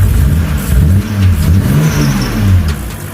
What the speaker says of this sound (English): Definitely got a misfire. For sure got a misfire.